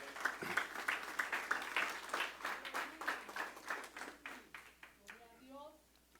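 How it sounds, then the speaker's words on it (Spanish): Congregation applauding together inside a church during a Spanish-language sermon: steady rhythmic clapping from many hands for several seconds, fading toward the end as a voice begins to speak. "le damos una ofrenda de palmas al Rey en el nombre de Jesús"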